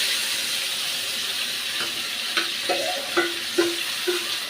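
Potatoes sizzle steadily in a hot pan while a utensil stirs them, giving a few clear scraping clanks over a constant frying hiss, with no talking.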